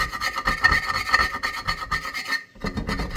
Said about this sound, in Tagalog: tanggalin natin sa kutsara. Hindi pala matanggal, ha?